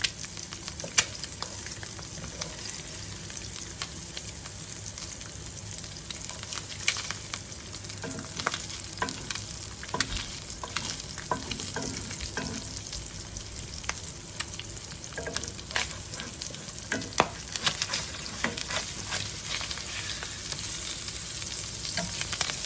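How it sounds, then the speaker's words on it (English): Eggs sizzle and fry steadily in a cast iron pan, a continuous close crackle with scattered sharper pops and a faint scrape of stirring, no voices present. "It'll cook a little bit longer. I like my eggs runny."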